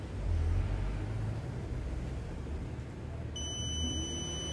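A steady high-pitched electronic continuity tester beep sounds near the end while testing a notebook battery, over a low, rumbling background noise.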